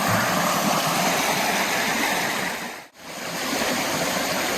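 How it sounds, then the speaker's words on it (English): A mountain stream on the Appalachian Trail near Gooch Mountain Shelter rushes between rocks with a loud, steady wash of water close by, dipping briefly for a moment before resuming. "This is Eddie filtering some water out of the stream"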